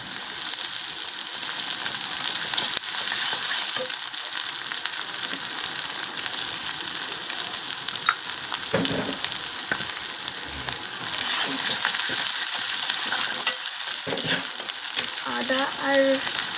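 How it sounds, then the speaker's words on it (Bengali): Chopped onion browned with crushed ginger and garlic, frying together in a pan for a village-style chicken kosha: a steady, even sizzle with occasional stirring scrapes, and no voices. "আদা রসুন আর পেঁয়াজটাকে আমি একসাথে লাল লাল করে ভেজে নেব।"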